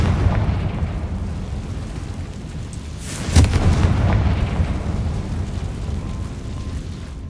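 The Confringo blasting spell erupts in Hogwarts Legacy with a loud, deep boom midway, followed by a rumbling tail over a steady low game ambience.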